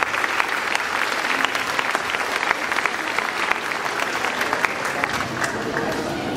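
Sustained applause from a crowd at a primary school graduation ceremony in Mexico, steady and dense clapping filling the whole stretch with some voices mixed in.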